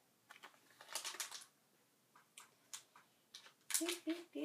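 Scissors cut open a My Little Pony Wave 11 blind bag in a series of quiet, close snips and crinkly foil rustles that come in uneven bursts with brief gaps.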